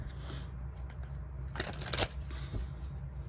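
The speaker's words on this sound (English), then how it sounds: "Let me just do a shuffle" A short riffle of tarot cards being shuffled, a quick crisp burst in the middle of a quiet room, with a lighter flick afterward.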